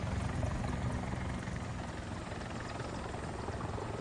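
Hind attack helicopter in War Thunder flying steadily, its rotor and engine roar filling the whole moment at constant loud level with no speech.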